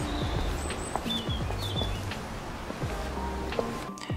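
Birdsong sound effects chirp and twitter in short, bright calls over a steady background of wind, rustling and footstep effects, moderately distant.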